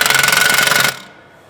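An impact-style power tool tightens a heavy-duty lug nut toward roughly 300 to 400 foot-pounds of torque, giving a loud, rapid hammering burst of just under a second that cuts off sharply, leaving only faint room noise.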